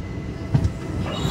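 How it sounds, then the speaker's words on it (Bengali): A train pulls out of platform 4 at Dharmavaram railway station with a close, heavy rolling rumble and faint wheel squeal, continuous and without voices. "নির্ধারিত সময় থেকে মাত্র 3 মিনিট লেট করে আমাদের ট্রেন ছেড়ে দিল ধর্মাভরম রেল স্টেশনের 4 নম্বর প্ল্যাটফর্ম"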